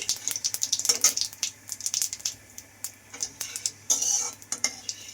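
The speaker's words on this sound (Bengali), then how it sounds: "গরম হয়ে গেছে, আমি জিরেটা আর তেজপাতাটা দিয়ে দিলাম।" Cumin seeds and a bay leaf hit hot oil in a pan for a vegetarian soybean curry, crackling in sharp, irregular pops over a light sizzle, mixed with clinks of a utensil against the pan.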